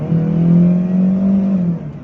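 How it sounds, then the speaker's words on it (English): Inside the cabin of a Chery Tiggo 2, a steady droning engine hum swells briefly as the revs rise, loud and close with no one talking. "as far as the insulation from the engine compartment is concerned, a lot of noise seems to creep in from there"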